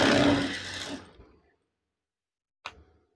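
A sewing machine stitches curtain fabric in a rapid whirring burst that slows and stops after about a second, followed by silence and one brief sharp mechanical clack near the end.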